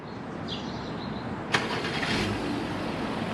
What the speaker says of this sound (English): Before you go up, we'll use the remote start system.